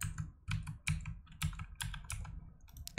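Clacky keystrokes tapped on a computer keyboard while a PIN is entered, a quick run of close, distinct clicks in uneven bursts with short pauses between, no voices.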